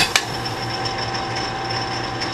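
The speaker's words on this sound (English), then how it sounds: "here's my nice Hardinge machine doing the last machining step" A Hardinge DSMA automatic lathe threads a vintage Ford part, giving a steady mechanical whir with a faint high whine and a sharp click near the start.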